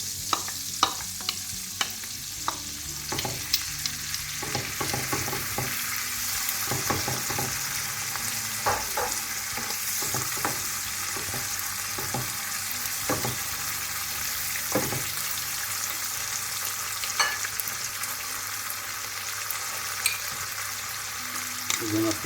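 Tuna fries in olive oil in a pan while being stirred, with a continuous close-up sizzle and frequent clicks and scrapes of the utensil throughout.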